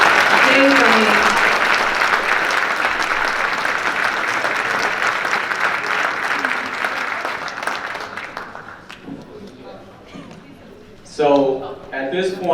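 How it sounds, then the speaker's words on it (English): An audience at a keynote event with WNBA MVP Lisa Leslie breaks into loud, sustained applause that slowly fades, and a voice begins talking near the end. "we want to give another round of applause for the three selectors"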